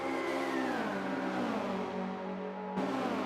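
Volkswagen Scirocco race cars in the Forza 5 racing game, engines revving and whining through the gears with rising then falling pitch, loud and close, followed by a sharp shift near the end.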